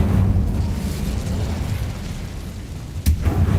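An Incendio fire spell in a Harry Potter video game gives a loud, sustained roaring whoosh of flame. A sharp burst follows near the end.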